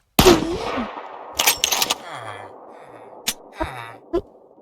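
Game gunfire in a Thai mafia shootout, heard as several sharp, loud bursts and single cracks scattered across the stretch, with quieter mechanical clatter between them and no talk.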